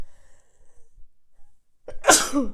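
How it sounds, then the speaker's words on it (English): A single sharp, loud human sneeze bursts out after a couple of seconds of near silence. "this is always confirmation when I'm sneezing"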